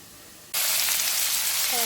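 Cut tomato dropped into a pan of frying bitter gourd curry bursts into a loud, steady sizzle that starts abruptly and holds at close range, replacing a quiet background hiss, with a faint voice near the end.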